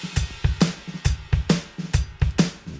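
Kick drum on a bus compressor set to a bass drum metal preset, mixed with snare hits and bright cymbals in a steady rock beat, punchy and close, no voices.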